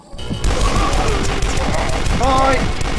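Rapid, loud shotgun blasts from a double shotgun in the retro shooter Dusk, firing in a dense barrage over continuous game noise and music, with no gaps between shots.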